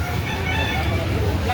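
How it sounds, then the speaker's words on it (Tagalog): Quality gamefowl roosters clucking and crowing amid a dense, continuous din of birds, with people talking nearby. "Quality mga manok na."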